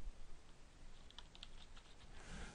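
Soft, quick keystrokes on a computer keyboard, entering labels in a statistics and regression exercise, click in a quiet, uneven run with no talking.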